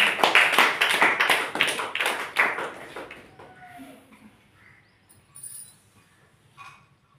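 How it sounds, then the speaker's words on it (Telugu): Guests at a church wedding break into a burst of rhythmic hand clapping, loud and steady for about three seconds before fading into quiet room sound with faint stray noises. "అందరూ కూడా చప్పట్లు కొడదాం."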